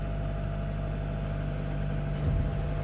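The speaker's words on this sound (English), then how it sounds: "You should then hear the PTO kick in." A 2018 Iveco Daily Euro 6 utility van with a workshop compressor and generator runs with its PTO engaged, a steady low engine drone and hum that rises slightly near the end.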